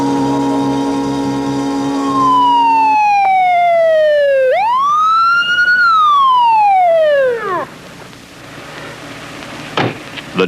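A loud emergency siren from an ambulance called to an injured front-end loader operator wails in long rising and falling sweeps, then cuts off and leaves a low rumble with a couple of sharp knocks.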